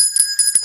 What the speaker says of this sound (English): That's why I've got the bell.